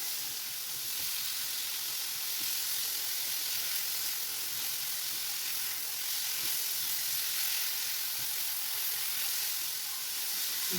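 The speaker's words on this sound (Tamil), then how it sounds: "நெய் கொஞ்சமாக ஆட் பண்ணிவிட்டு பலாச்சோலையும் சேர்த்து நல்லா வதக்கிடலாம்" Steady, soft sizzling of jackfruit pieces sautéing in ghee, a continuous hiss with faint stirring scrapes, no talking.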